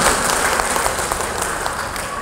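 A crowd applauds at a farewell gathering for an early-childhood education supervisor, steady dense clapping throughout with no pauses.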